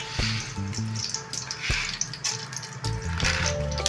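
Oil heating in a pan for a potato fry, a soft steady sizzle with occasional clinks and taps from utensils close by.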